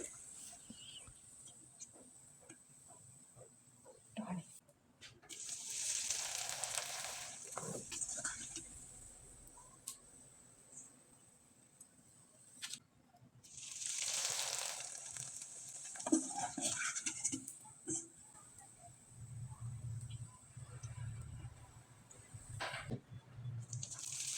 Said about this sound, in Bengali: এবার আমি কয়েকটা পিঠা আপনাদের তেলে ভেজে দেখিয়ে দিচ্ছি